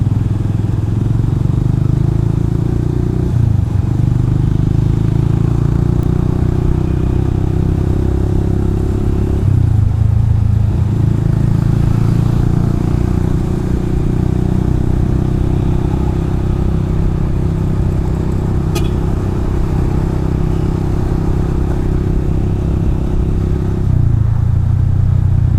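A motorcycle engine drones steadily in Makassar street traffic, loud and close, with gear shifts and slight revving changes every few seconds and a constant low rumble throughout.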